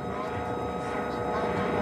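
A gendarmerie helicopter gives a steady, close rotor and engine drone above clashes with police, continuous and even throughout with no pauses.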